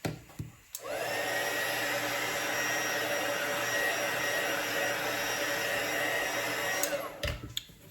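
A hair dryer drying freshly applied paint for a rustic finish starts up and runs with a loud, steady, close whir for about six seconds, then switches off.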